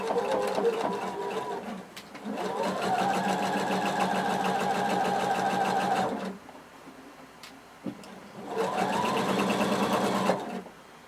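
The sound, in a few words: sewing machine sewing cardigan shoulder seam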